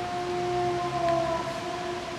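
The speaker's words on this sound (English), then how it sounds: "There's a siren for the fire department, I guess." A fire department siren during the aftermath of the March 11, 2011 earthquake and tsunami in Japan, holding steady, sustained wailing tones at moderate loudness for the whole clip, with no talking.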